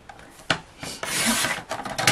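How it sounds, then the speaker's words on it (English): A piece of craft card is cut with short scraping, rasping strokes, close and moderately loud, in several uneven bursts with no talking. "I'm going to cut this piece off here"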